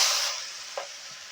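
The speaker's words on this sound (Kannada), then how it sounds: "ಈರುಳ್ಳಿ ಹಾಕಿದ್ಮೇಲೆ ನೀಟಾಗಿ ಫ್ರೈ ಮಾಡ್ಕೊಳ್ಳೋಣ." Onions dropped into a pan of butter with cumin seeds, giving a brief bright sizzle that fades, with a single soft clink near the middle.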